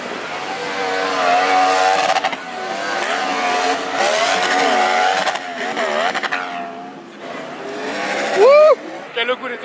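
Modified racing karts drifting around a track, engines revving and whining as they pass at varying distances, with bursts of tire squeal near the end and people talking over the noise.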